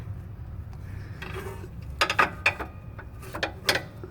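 A spinner ratchet wrench turns a bolt on a BMW E34 during steering linkage work, giving a few close clusters of sharp metallic clicks over a low background hum, with no talking.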